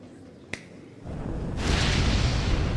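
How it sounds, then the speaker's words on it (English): Crowd cheering in the Hollow Knight video game, a broad roar of applause swelling up after a sharp snap, building steadily louder over the last seconds with no talk. "Hear how the crowd adores you."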